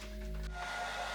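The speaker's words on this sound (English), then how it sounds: "Let's go grab the hairdryer." A hair dryer runs close by to dry paint on artwork, giving a steady, loud whooshing blow with a constant motor whine and no speech.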